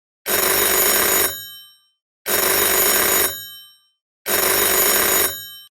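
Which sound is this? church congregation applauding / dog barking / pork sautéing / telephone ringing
telephone ringing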